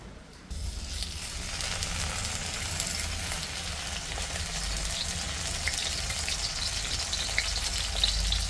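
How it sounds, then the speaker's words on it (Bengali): Leaf-wrapped parcels of lentil paste hit hot oil, and a loud, steady sizzle starts after a brief quiet moment and carries on close by. "এখন পাতার মধ্যে ওই ডালের মিশ্রণটা দিয়ে ওটা মা সুন্দর করে ভাজ করে নিল। এবার ওটাকে ভাজবে।"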